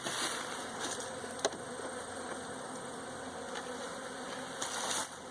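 Honey bees in a beehive box give off a faint, steady buzzing hum during a pre-winter check with feeding. The sound is continuous and low in level, with a few soft knocks.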